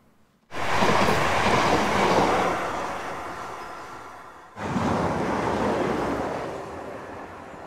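Two trains rush through a rural railway station in the New Forest without stopping, each arriving abruptly as a loud, close roar of wheels and rails, the second following right after the first fades.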